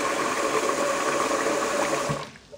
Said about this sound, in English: Pour some more water in.